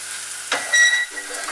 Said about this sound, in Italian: andiamo ad aggiungere la cipolla e lasciamola rosolare qualche minuto